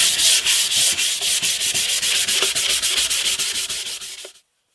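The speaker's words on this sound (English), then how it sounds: "they've dried overnight, so I'm going to go over it now with 600 grit" Close, steady rubbing of 600-grit sandpaper over an oil-finished hollow-body electric guitar body, worked in quick regular back-and-forth strokes, loud and alone before stopping abruptly.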